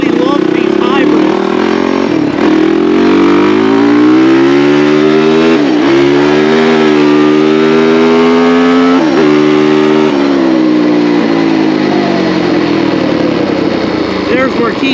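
A KTM hybrid motorcycle revs loudly up close, its engine note rising through long second and third gears with brief dips at each shift, while someone talks over it.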